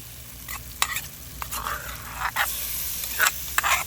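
Tomatoes frying in a pan for a Shan-style fermented bean dish, stirred with light scraping strokes and soft sizzling in intermittent bursts, close and fairly quiet.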